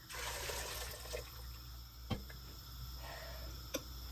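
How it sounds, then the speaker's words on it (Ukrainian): Broth pours into a pot while borscht is being cooked, making a faint, steady stream of liquid with a couple of small knocks. "і виливаю сюди одразу бульйон"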